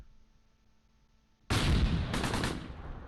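Gunfire from the Close Combat WWII tactical game near Tourville, 1944: after a quiet lull, a sudden loud burst of rapid shots and blasts erupts and rattles on for about a second before tailing into rumbling echo.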